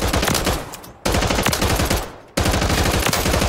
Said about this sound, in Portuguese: a arma vai atirar nessa velocidade aqui que vocês vão ver, olha só